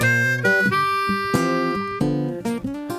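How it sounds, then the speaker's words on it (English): A blues harmonica plays a short, easy lick made of a few bent, wailing notes with quick breathy attacks, close and clear with no voices. "now let's move on to lick number 2, which is going to sound like this."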